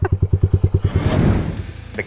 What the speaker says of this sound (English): The Lakota has a pretty mellow engine.